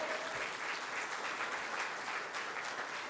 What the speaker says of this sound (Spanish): Dale una ofrenda de palmas a nuestro Señor,